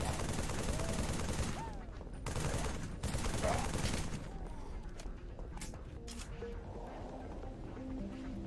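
Turret gunfire in the video game Halo 3, a dense, continuous stream of rapid shots at moderate level that thins toward the end, with other game sounds and voices underneath.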